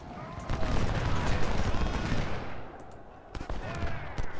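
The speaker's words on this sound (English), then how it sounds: "Hit him with a couple volleys." Musket volleys crackle in Ultimate General Civil War, a dense rolling burst of massed rifle fire through the first half, thinning to scattered shots and a few sharp cracks toward the end, mid-distance and steady.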